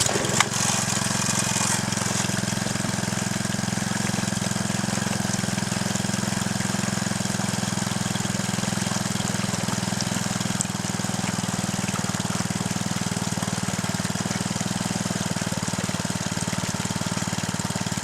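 A small gold dredge engine runs at a steady idle beside water, a constant close mechanical chug and rattle holding evenly for the whole stretch after a brief start-up burst.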